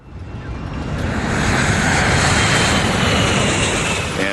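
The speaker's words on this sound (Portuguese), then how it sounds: "o avião está acelerando rápido o bastante" Airliner accelerating down the runway for takeoff, its jet engines building from a swelling roar to a loud, sustained broadband rush, with no voices.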